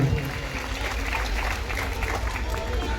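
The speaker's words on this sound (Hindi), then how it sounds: "सभी की तालियां एक बार जोरदार चाहूंगा" An audience at a Dhamma festival of Bhim songs at Dikshabhumi in Ajni, Nagpur, claps loudly and steadily throughout, a dense crowd applause with no pauses.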